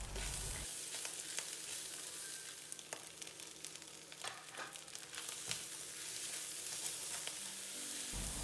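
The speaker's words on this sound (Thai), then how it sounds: "เราจะผัดไปเรื่อยๆ จนข้าวของเราเนี่ยแห้งเลยนะ" Train-style fried rice stir-fried in a Teflon pan on an induction stove, a steady close sizzle with scraping stirs running throughout, no talking.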